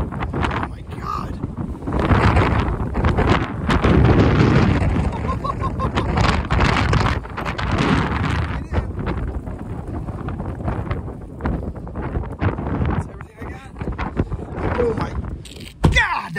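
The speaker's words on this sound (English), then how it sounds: "Windy." Powerful wind gusts roar during a derecho storm, buffeting the microphone in a constant loud rush with occasional voices underneath.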